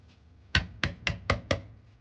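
A knife chops an onion into fairly wide strips on a cutting board in a kitchen, giving five sharp, evenly spaced close knocks with no talking.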